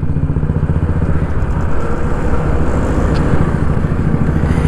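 A TVS XL moped's small engine drones steadily and loudly while riding, with wind buffeting throughout and no talk.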